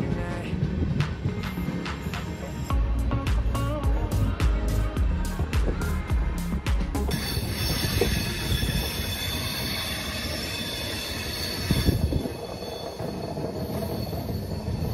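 Pinakini SF Express train no. 12711 running on the track, a loud continuous rumble with rhythmic wheel clatter and bursts of high metallic squeal, heard from inside the moving coach.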